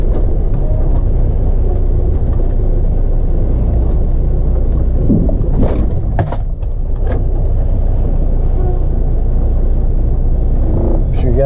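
Heavy truck engine rumbling steadily under load while lifting the gooseneck of an RGN trailer, a loud continuous low drone with a few clanks and pops midway.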